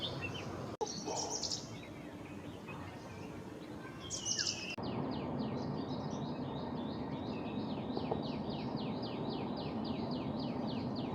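Birds sing from bushes in Carambolim village, Goa, where a Jerdon's leafbird feeds: bright chirps and whistles, then a steady run of rapid repeated notes over a constant insect drone.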